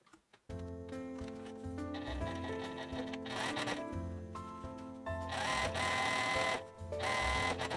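A sewing machine stitches fabric for a welt pocket, its needle running in a steady, close mechanical hum with rhythmic tonal whirring that speeds up toward the end after a short start.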